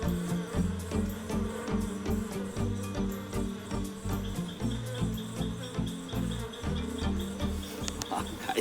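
A dense, steady buzzing of many wild bees at their nest, continuous and fairly close, with a low droning hum running under it throughout.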